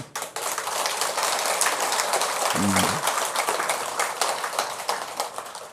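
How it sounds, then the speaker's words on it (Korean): Audience clapping fills a Buddhist dharma talk hall in steady, dense applause for several seconds, with a brief voice sounding near the middle and the crowd noise easing slightly toward the end. "그거 하기 싫을 텐데 왜 박수 치세요?"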